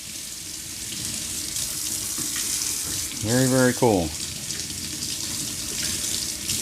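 Water running from a faucet inside an RV, a steady broadband rush that continues throughout, with a brief spoken comment partway through.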